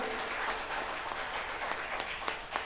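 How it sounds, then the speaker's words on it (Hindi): Audience clapping at a Hindu religious discourse in Mumbai, a soft but continuous patter of many hands with a few sharper individual claps standing out near the end. "खुल के ताली बजाओ"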